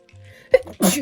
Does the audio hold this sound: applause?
no